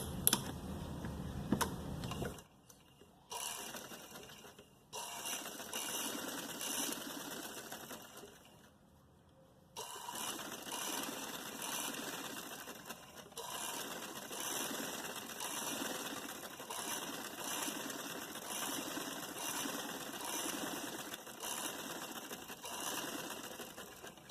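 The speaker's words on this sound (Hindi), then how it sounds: "अब इसके बाद मैं एक सिलाई यहाँ किनारी पे लगाऊंगी" Sewing machine running a stitch along a fabric edge while a narrow shalwar is being sewn, a steady fast mechanical ticking that pauses briefly twice and then resumes, close and fairly quiet, with no talking.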